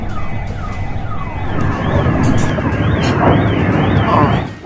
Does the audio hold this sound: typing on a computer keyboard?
no